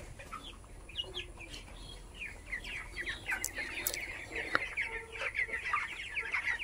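Broiler poultry chickens clucking and chirping together in a shed, a continuous, moderately close chorus of overlapping calls with a few sharper squawks and no talking.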